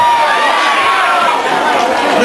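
A crowd at a live music show cheers and claps to welcome a singer, a loud continuous wash of applause and voices with no clear speech on top.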